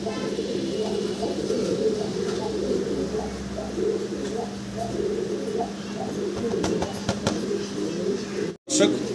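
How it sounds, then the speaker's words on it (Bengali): Short face fancy pigeons coo softly in a steady, low murmur that runs throughout, close by with a constant background hum and a brief dropout near the end. "দেখেন অসাধারণ সুন্দর দুইটা শর্ট ফেস কবুতর"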